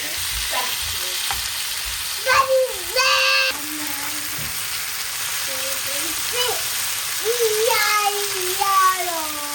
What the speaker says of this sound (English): Put the saltfish in and let them all fry at the same time.